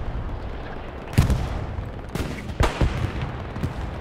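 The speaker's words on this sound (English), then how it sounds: "Got the recon tank shooting him from the side here." A recon tank firing in a war video game, a few sharp distant gunshot cracks in scattered bursts over a low rumbling battlefield background.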